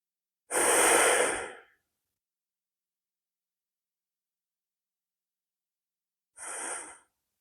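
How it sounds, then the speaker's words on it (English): Two deep breaths during a gentle beginner yoga session, a long full inhale followed after a pause by a shorter exhale, close and clear against silence. "Nice deep breaths here."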